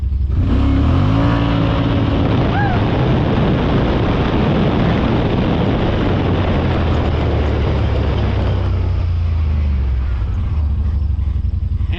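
A Yamaha Wolverine X4 side-by-side fitted with a JBS sheave accelerates hard in low gear from a standstill to about 25 mph, its engine roaring loud and close as the pitch climbs steadily, with wind and drivetrain rumble filling the sound.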